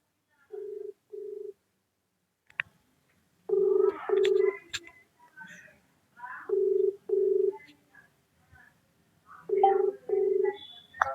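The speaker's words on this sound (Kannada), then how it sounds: "ಕಾಲ್ ರಿಂಗ್ ಆಗ್ತೈತೆ" An outgoing phone call ringing, a repeated pattern of paired ringback tones in four separated bursts, with faint voices and rustle between the rings.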